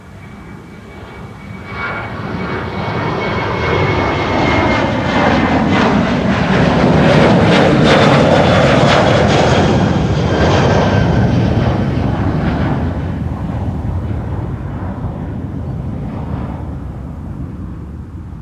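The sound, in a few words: Boeing 777 freighter jet aircraft, China Cargo Airlines, at Schiphol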